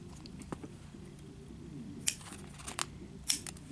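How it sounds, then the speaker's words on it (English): Scissors cut a feather, giving a few faint, crisp snips spread irregularly over a quiet indoor background with low rustling. "I cut a feather."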